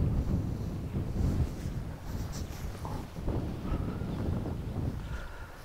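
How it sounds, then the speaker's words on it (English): Steady wind buffets the microphone outdoors, a continuous low rumble that swells and eases with gusts. No one speaks. "it's quite windy today"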